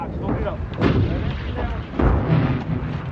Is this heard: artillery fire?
yes